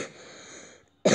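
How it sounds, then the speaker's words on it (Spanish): A single short cough bursts out at the very end after a near-silent stretch, close and fairly loud, with no talk over it. "si tengo mucha tos"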